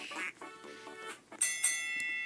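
A cartoonish duck quack sound effect in a video game plays amid bright electronic game tones and chimes, short and close, with no talking.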